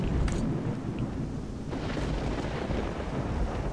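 Thunder rumbles in STALKER: Shadow of Chernobyl, a loud, continuous low roar with rain hiss, swelling and rolling for several seconds without a break.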